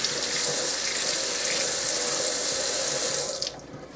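Tap water gushes into a sink while a measuring cup is rinsed out, a loud close rushing hiss that drops away sharply near the end as the flow stops.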